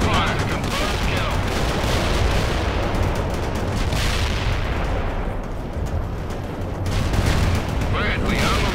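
Battle in the video game World in Conflict, dense overlapping gunfire and explosions in a continuous loud barrage, with rumbling blasts throughout and voices talking over the combat.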